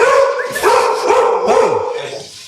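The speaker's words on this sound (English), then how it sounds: "Dogs barking." Several dogs bark and yelp close by in loud overlapping bursts, with a drawn-out howling whine rising among them across the whole stretch.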